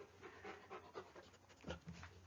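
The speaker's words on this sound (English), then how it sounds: "if you hear a dog in the background" A dog pants quietly in the background, with rhythmic, breathy huffs over a faint, steady room hum.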